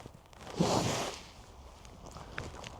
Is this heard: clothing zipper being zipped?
yes